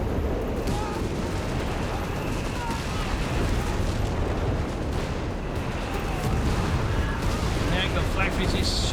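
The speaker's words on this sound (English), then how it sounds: "There you go, Flak 36 shoots, whiffs." A Flak 36 anti-aircraft gun fires in a Company of Heroes 3 battle, its booms buried in a dense, constant wash of battlefield gunfire and explosions, with a voice talking throughout.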